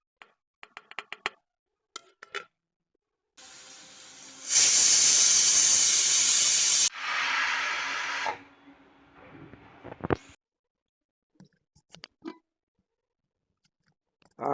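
Mixer grinder grinding grated coconut: a loud whirring burst of about seven seconds that rises in pitch, then settles lower and stops, framed by scattered clicks and handling knocks before and after.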